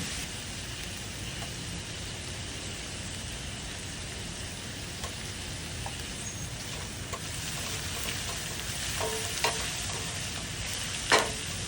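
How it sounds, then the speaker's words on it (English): Food sautés in a pan on medium-low heat for a Jamaican ackee and salt fish dish, a soft, even sizzle with occasional stirring clicks and scrapes, fairly faint and with no talk. "Now we're gonna saute this on medium to low heat, right? We don't want to burn it."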